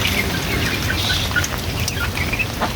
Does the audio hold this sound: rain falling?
yes